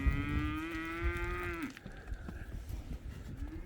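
A cow moos once, long and loud, its call sliding up and then breaking off, followed by a shorter low moo beginning at the end over a quiet outdoor background.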